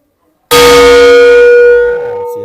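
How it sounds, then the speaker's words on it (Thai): A single loud strike on a large Thai temple bell rings out with a bright metallic clang, then a long sustained tone that slowly fades without dying away. "มีระฆังให้ตีด้วย"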